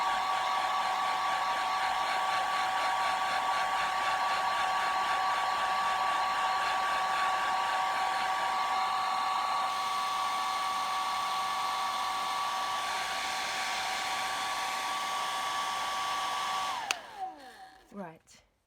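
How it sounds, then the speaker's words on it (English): Hairdryer blowing on a simple watercolour landscape painting, a loud, steady whirring drone held close for about seventeen seconds before it clicks off and winds down, with no talking. "back in with the hairdryer again for me"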